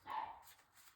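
A pet dog barks indoors in the background, one short sharp bark rising and trailing off within a second, fairly faint and alone.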